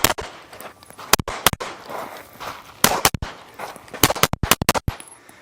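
Sharp gunshots ring out during shooting practice, coming in irregular bursts and clusters over a noisy outdoor background, some close together and others spaced apart.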